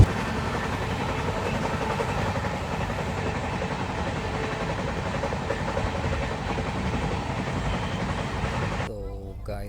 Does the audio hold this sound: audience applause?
no